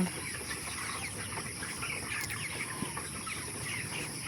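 Broiler chickens about a month old cluck and murmur steadily inside a poultry farm shed, a dense low chorus of many birds at moderate distance, with a faint continuous hum behind them.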